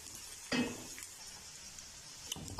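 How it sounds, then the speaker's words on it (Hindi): Potato, carrot and peas stir-fried in a pan give a faint, quiet sizzle broken by two sharp bursts of spatula scraping and clatter against the pan. "यहाँ अच्छी तरह इनको हमने स्टर फ्राई कर लेना है"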